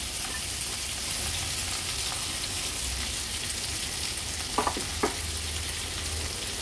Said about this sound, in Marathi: आता झाकण ठेवते आणि 4 ते 5 मिनिटांसाठी मीडियम फ्लेमवर एक बाजू आपण ह्याची फ्राय करून घेऊया।